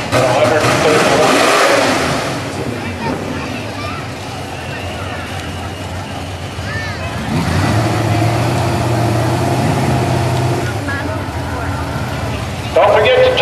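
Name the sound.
Mustang drag racing car accelerating down the strip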